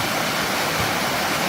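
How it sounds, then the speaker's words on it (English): Water rushes steadily into a canal lock at Middlewich beside a weir, a dense, continuous roar of flowing water heard up close with no voices. "So letting the water in to make the water go to the same level as this side of the lock."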